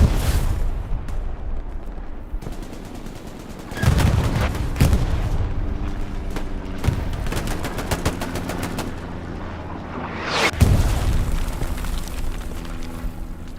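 Artillery strikes in a video game, heavy booming impacts landing in irregular bursts amid rattling gunfire, loud and close with a sustained battle din between blasts.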